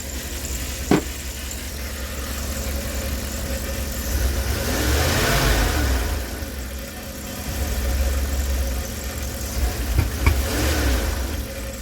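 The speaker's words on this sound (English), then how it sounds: "It's got a weird stumble when I try to give it gas." A Dodge conversion van engine runs just after a head replacement, idling at a mid pitch and rising in two uneven revs that swell and sag, with a sharp click near the start.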